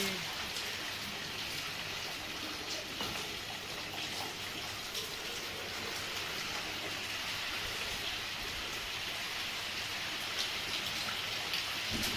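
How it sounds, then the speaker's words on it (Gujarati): Rain falls steadily and evenly for about twelve seconds, a dense continuous patter at moderate loudness with no clear breaks. "વરસાદ વરસી રહ્યો છે."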